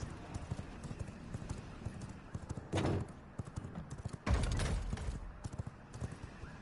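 Horse hooves clip-clop in the vampire survival game V Rising, a quick, steady run of hoofbeats, quiet and close, broken by two brief louder bursts of game noise.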